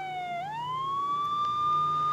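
An ambulance siren wails on a road as the vehicle moves up to overtake a lorry, a single wavering electronic tone that dips then rises and holds steady, fairly clear over faint traffic rumble.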